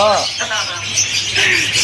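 Loud chatter of many birds in a pet shop, chirps and squawks overlapping in a dense, noisy indoor space, with a voice briefly at the start.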